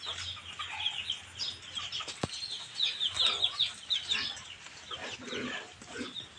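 Laying hens clucking and chattering nearby in a backyard setting, a busy continuous mix of clucks with a sharp knock partway through, no talk.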